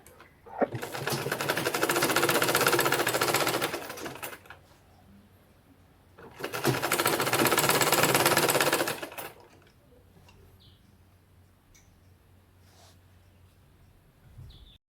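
Sewing machine stitching the remaining seams of a women's kimono jacket, running in two loud sustained bursts of about three seconds each, separated by quieter pauses with faint handling noise.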